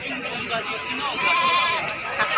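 A goat bleating at a goat market, a loud, wavering call close by with people talking around it.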